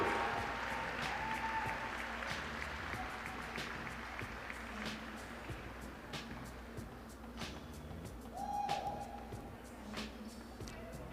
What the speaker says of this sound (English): let's give one more roaring round of applause for the Marian volleyball class of